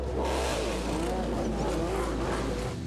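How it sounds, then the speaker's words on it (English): High-powered historic racing cars scream past at a motorsport festival in Adelaide, a loud, continuous engine roar with rising and falling revs throughout. "Now, Adelaide comes alive once again to the scream of high-powered engines"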